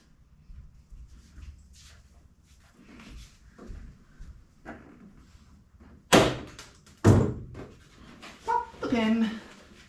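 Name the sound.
doors being removed from a Toyota truck cab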